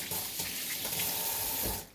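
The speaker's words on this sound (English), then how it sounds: "Wash my hands." Hands being washed under a running kitchen tap while zucchini bread is prepared, a steady loud hiss of flowing water that cuts off at the end.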